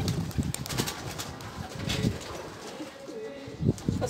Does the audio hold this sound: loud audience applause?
no